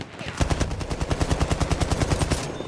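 Rapid automatic gunfire from a Battlefield 1 weapon such as the BAR, a long steady burst of evenly spaced loud shots held for about two seconds, close and dominant with no talk over it.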